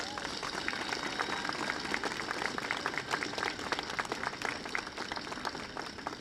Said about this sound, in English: Can you give a round of applause for the artists?